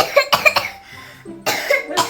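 A feverish child coughs in two close bursts, several quick harsh coughs, then a brief pause and another short cluster, loud and near.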